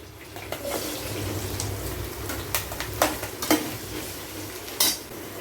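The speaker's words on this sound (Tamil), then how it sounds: "அடுத்து நம்ம பொடியாக நறுக்கி வச்சுருக்கிற மாங்காவை சேர்த்துடலாம்" Finely chopped raw mango for mango pachadi hits a hot pan with a steady sizzle, followed by scattered clinks and scrapes of a utensil stirring.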